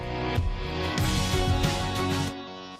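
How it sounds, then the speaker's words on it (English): Reversed electric guitar swelling into a transition, with a pulsing side-chained pump running through the dense music, steady and moderately loud for under three seconds. "So you have the reverse guitar build up"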